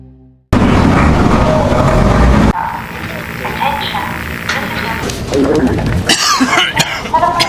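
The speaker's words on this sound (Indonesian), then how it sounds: "Wikus yang sedang menandatangani dokumen mulai mengalami batuk-batuk ekstrim" A man in a film scene falls into an extreme coughing fit, harsh repeated coughs and throat clearing, mixed with background noise from the scene and a narrator talking over it.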